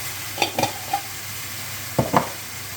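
Dried garlic and smoked paprika mixture stirred in a frying pan, a low sizzle broken by several sharp spoon clinks and scrapes in two short bursts, close and clear with no talking.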